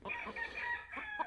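A brood cock crows close by in one brief, loud call with clucking overtones, heard alone without any voices.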